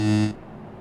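Truck horn in American Truck Simulator, heard from outside the cab as a single short, loud, buzzing blast that cuts off abruptly into quiet background.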